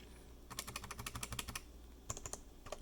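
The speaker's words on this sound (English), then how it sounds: "this is what the new one sounds like with a PETG keycap" Rapid typing on a mechanical keyboard with a new switch design and PETG keycaps gives a close, steady run of deep, thocky clacks, then a brief pause and another short burst of keystrokes.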